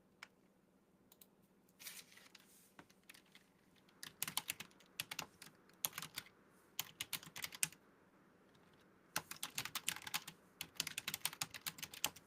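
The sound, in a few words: fingernails tapping, mistaken for typing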